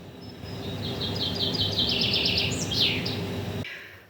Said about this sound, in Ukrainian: якась пташка почала у нас тут жити. Вона так голосно співає